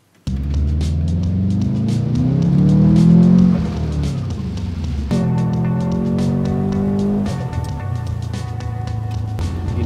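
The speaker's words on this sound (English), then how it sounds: "Take that noisy shitbox Subaru." A noisy Subaru car drives close by, its engine rising in a loud rev, dropping back, then holding a steady, rough drone with a faint whine, with no talking over it.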